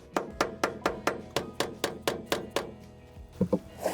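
A hammer strikes a metal Dana 80 differential cover on a Ford F350 dually about a dozen times in a steady, even rhythm, each blow a sharp close clank, followed after a short pause by a quick double hit.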